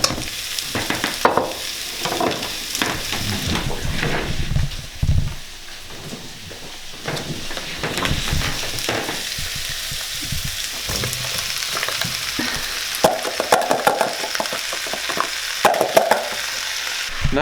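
Potato and pumpkin sizzling and frying in a pot for pumpkin soup, with steady scraping and stirring from a utensil and occasional clunks against the pot throughout.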